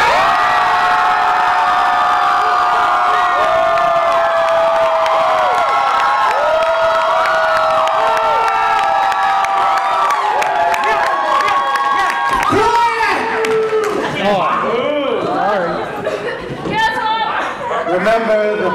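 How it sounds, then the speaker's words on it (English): A crowd at a live wrestling show cheers, whoops and shouts loudly and continuously, with children's voices among the roar and a brief spell of applause near the end. "Let me hear you cheer if you think"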